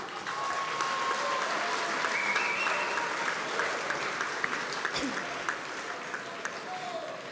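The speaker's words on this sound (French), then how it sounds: "Applaudissements pour eux." Crowd at a farmers' union congress opening session in Meurthe-et-Moselle gives sustained applause, a steady even roar of many hands lasting throughout, with faint voices mixed in underneath.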